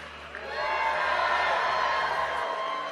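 A huge crowd of Christians at a political rally in North Carolina roars and cheers in a sustained, loud wash of voices that swells after a moment and stays full throughout.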